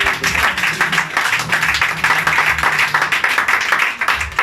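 Church congregation applauding and cheering together at a Sunday worship service, a dense, steady wash of clapping with crowd voices underneath, loud and continuous throughout.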